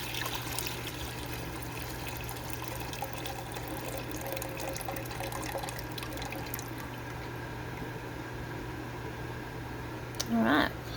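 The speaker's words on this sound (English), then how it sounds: "we're just going to take it and pour it back into the pot." Redbud blossom tea being poured back into a cooking pot, a steady trickling stream running on at an even level, with a brief clatter near the end.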